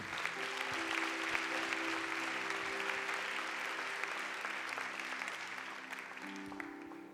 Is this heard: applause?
yes